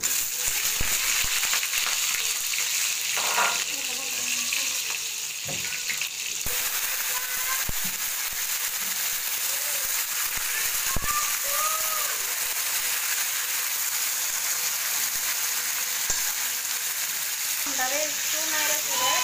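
Mango pieces for a sweet, sour and spicy pickle fry in a pan with a steady, loud sizzle, broken by stirring scrapes and clatter, with faint background sounds throughout.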